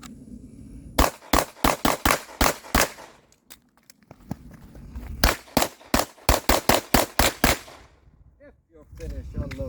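Rapid pistol shots ring out in two quick strings during a practical shooting classifier stage, sharp and close, with a short pause between strings and faint talk near the end.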